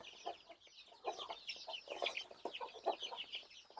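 Native chicken chicks, 26 days old, feed together, giving a soft chorus of high cheeping and peeping with quick overlapping chirps at a modest distance, faint overall and without speech.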